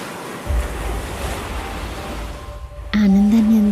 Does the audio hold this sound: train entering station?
no